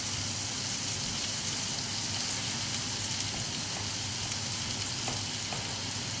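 Breaded veal escalopes frying in butter in a pan, a dense, even sizzle that holds steady throughout with faint crackles and no talking.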